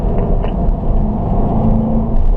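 A race car accelerates hard on a circuit during a driving school session at Spring Mountain in Nevada, a loud, dense engine rumble and drone heard from inside the cockpit with a steady, building tone.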